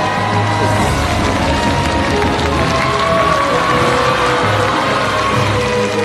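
A large studio audience of around 500 people at a television music show bursts into sustained, loud applause and cheering that fills the room continuously.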